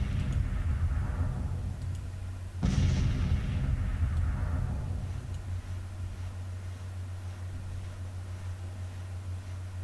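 Civil War cannon fire rumbles in the GTCW strategy game: a sharp boom lands partway through and fades into a long, low battlefield roar. A steady hum runs underneath and no voices are heard.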